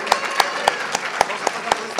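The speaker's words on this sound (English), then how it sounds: "So I want you guys all applaud to her." An indoor audience at a civic celebration claps in steady, scattered applause that is loud and close, with no talk over it.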